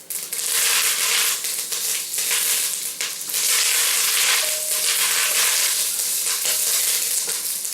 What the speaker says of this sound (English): I'm going to be putting in one red chili. And while that tempers, I'm going to be adding some curry leaves.